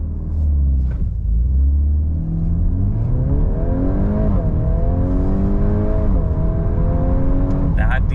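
A 2025 Volkswagen Golf R turbo engine held at a brake rev with its DSG gearbox, then launched hard, the loud engine note climbing steadily through the gears with a short gap at each shift.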